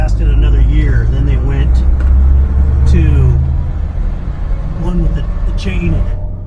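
1967 Chevrolet K10 4x4 truck with a noisy gear-to-gear transfer case, loud low drivetrain rumble and gear whine under the engine as it drives, with someone talking over it throughout.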